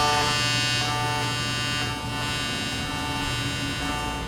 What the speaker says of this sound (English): I'm welding this assembly to the back plate